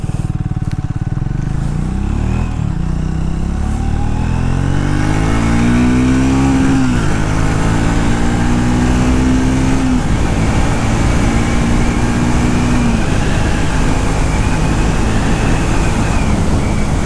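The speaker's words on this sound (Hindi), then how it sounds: "पैसे वसूल एग्जॉस्ट। बहुत ही बूमी साउंड है, मज़ा आता है। अभी चलाते हैं इसको।" A 2025 Triumph Speed T4 motorcycle with a 398 cc engine is ridden, its exhaust giving a loud, deep, booming drone that climbs in pitch through the gears, dips at each shift and builds again, heard close and steady with no voices.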